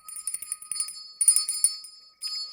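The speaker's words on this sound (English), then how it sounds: "Here's the bell." A small bell rings a few times in quick bright tinkling strikes, thin and high, fairly faint and alone, with a short pause before one last ring.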